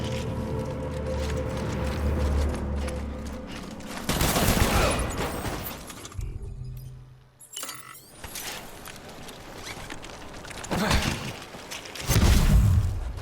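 Gunfire in the video game Death Stranding: bursts of loud shots and booms come in clusters around the middle and toward the end, with mechanical clatter and game sounds between them and no talk over the shots.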